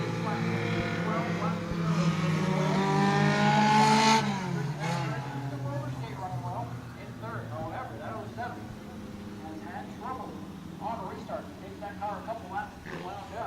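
Bomber-class stock cars race around New Smyrna Speedway, a pack of engines roaring loudly past, then settling into a steady drone from farther around the oval while an announcer talks over it.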